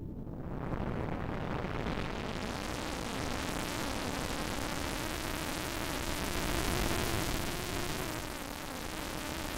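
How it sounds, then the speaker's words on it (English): Dense, steady hiss of white noise from a Eurorack modular synthesizer's distortion output fills the whole clip at a constant loud level, harsh and sizzling with no pauses. "There's my white noise."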